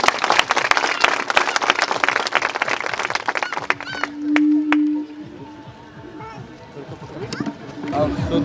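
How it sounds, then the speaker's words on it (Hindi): A crowd of guests at a Christian village wedding in Mainpat, Surguja, Chhattisgarh breaks into dense, sharp clapping for a few seconds, then it thins to scattered claps under voices and a steady humming tone. "जोर से ताली बजा दीजिए"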